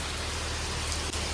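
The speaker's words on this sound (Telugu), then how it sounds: "ఫుల్ వర్షం పడుతుంది" Heavy rain pours down during Telangana's Bathukamma festival celebrations, a dense, continuous wash of close, loud hiss with no talking.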